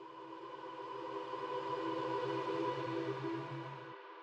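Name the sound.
reversed reverb riser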